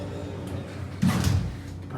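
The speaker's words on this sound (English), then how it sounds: "Shut the doors." Elevator doors in the Florida Mall slide shut with a short mechanical rumble and soft thud, close by, amid faint background chatter.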